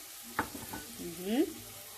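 Onions sizzle and fry in a pot with oil for an Ethiopian meat, carrot and potato stew, a steady quiet crackle with a sharp clink of a spoon and soft stirring scrapes, no talking.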